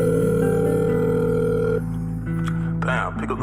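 A phone call rings out unanswered, a steady repeating ring tone with background music and clutter, then a brief voice near the end.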